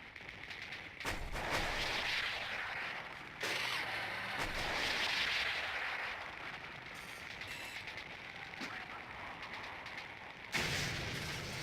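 Disc grenades and gunfire sound in the real-time strategy game Command & Conquer: Tiberian Sun as continuous battle noise, with repeated sharp blasts and bursts over a steady roar of fighting and no talk.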